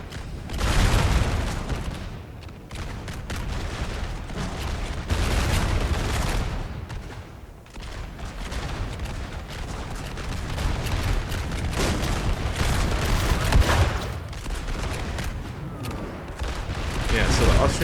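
Howitzer artillery and massed musket fire in a Napoleon: Total War 4v4 multiplayer battle, continuous booms and crackling volleys rolling throughout, loud and dense, with a voice talking over parts of it.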